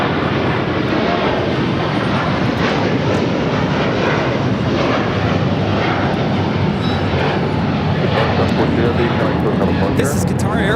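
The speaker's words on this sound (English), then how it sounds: "This is Qatar Airways 742 taking off to Doha on the A350 1000." A Qatar Airways Airbus A350-1000 widebody jet takes off at Los Angeles LAX, its engines a steady, loud, broadband roar that holds constant throughout while a voice talks over it.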